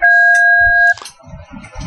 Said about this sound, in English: and then after the beep sound